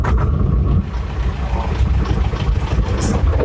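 A homemade T-25 tractor built with a passenger-car engine, started cold after standing unused, settles into a steady low rumbling run, loud and close with no talking.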